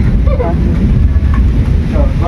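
Wind roaring steadily in open air during a rainstorm, a dense low rumble buffeting the microphone throughout, with faint rain wash and brief talk in the background.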